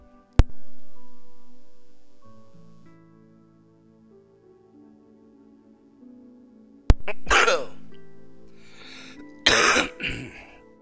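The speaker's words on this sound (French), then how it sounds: "je m'excuse par avance de mes futures quintes de toux, hein, j'ai toujours la putain de bronchite" A person with bronchitis breaks into a coughing fit: two harsh, close bursts of coughing and throat clearing cut over soft, steady background music after a quiet stretch.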